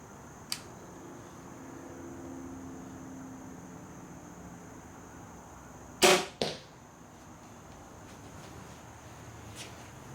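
Two sharp, loud cracks close together, a Horton Yukon SL crossbow shot without a suppression kit and its snap, after a faint click, against a steady background hum.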